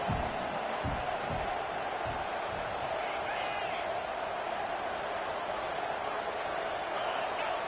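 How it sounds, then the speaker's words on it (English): Stadium crowd at an Oregon versus Missouri college football game roars loudly and continuously, a broad sustained wall of noise with a few thuds near the start. "with this place rocking, the crowd forces a false start"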